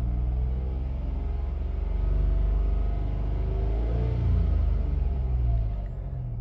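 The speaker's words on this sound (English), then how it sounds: "Let's keep the engine to 2000 RPMs and let's see the pressure change." A 2015 Mitsubishi Mirage engine idles steadily near 2000 RPM, a close, continuous low rumble with slight swells in loudness and no talking.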